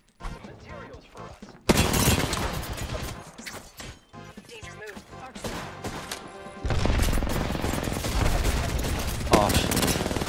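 Gunfire in the battle-royale shooter Apex Legends: heavy, rapid volleys of shots with crashing impacts come in loud bursts separated by quieter stretches, while players talk over the action.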